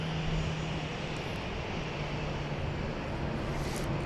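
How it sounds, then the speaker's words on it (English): A Pilatus PC-12/47 turboprop engine roars at Dallas Love Field, a steady broadband drone with a low hum beneath it, heard from a moderate distance with no talk over it. "The plane we last saw was a Pilatus PC-12/47 going to Joplin, Missouri,"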